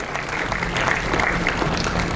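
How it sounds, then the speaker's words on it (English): Applause for a professor and his School of Design students at an IEEE international conference, a steady dense clapping crowd sustained throughout at a fairly loud level. "You really need one big round of applause"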